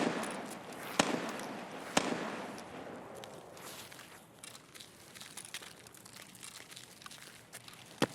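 Gunfire in the video game Escape from Tarkov on the Customs map, aimed at a sniper scav: a few sharp, distant-sounding cracks spread apart amid crackly ambient game noise, with a final shot at the end.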